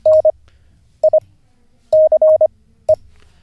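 Morse code for the word "nice" sent as a clear, loud, steady electronic tone, with short and long beeps grouped into four letters and silent gaps between them.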